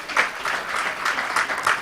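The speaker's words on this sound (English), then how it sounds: "Give them a hand clap" A symposium audience gives a short burst of clapping, with uneven handclaps coming in quick clusters at moderate volume over a brief span.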